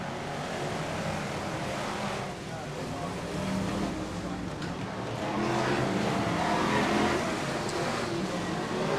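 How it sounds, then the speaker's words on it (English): BriSCA Formula 1 stock cars race as a full grid around the first bend at the 1995 UK Open Weekend, a continuous loud engine roar swelling and fading with a commentator's voice underneath. "the whole grid clattered around the first bend"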